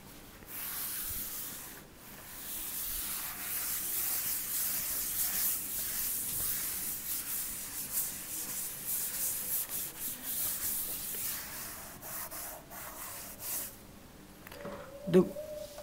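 A classroom board is rubbed clean with steady scratchy swishing strokes that go on for many seconds at moderate loudness. Near the end a brief voice breaks in.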